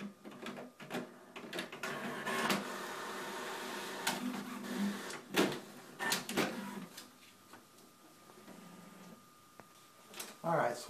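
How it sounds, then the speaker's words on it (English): A home printer runs while printing the inside of a greeting card, with irregular clicks, clacks and feed thumps over a steady mechanical whir, close by, as a person talks throughout. "so we're going to go ahead and print the inside of the card."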